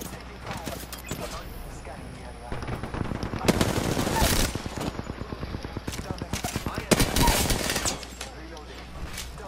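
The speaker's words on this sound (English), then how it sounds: "One I'm shooting at." Rapid automatic gunfire in the video game Apex Legends, repeated bursts of close, loud shots in fast rhythmic strings, with a player talking over the action.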